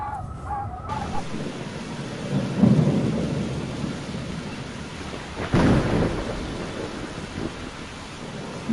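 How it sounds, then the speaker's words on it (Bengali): Heavy rain pours steadily on an evening story scene as a thunderclap rumbles loudly near the start and another crack and roll of thunder follows midway, wind-driven downpour continuing throughout. "জোরে জোরে বৃষ্টি পড়তে লাগলো।"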